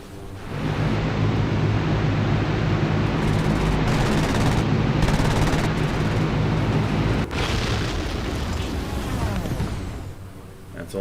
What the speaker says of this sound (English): Just a short burst from that 30mm cannon.